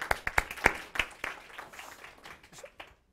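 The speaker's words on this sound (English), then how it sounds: "Some applause for Mr. Rapp." A small audience at a talk on decarbonizing China's power sector gives brief applause: a handful of sharp claps that quickly thin out and fade.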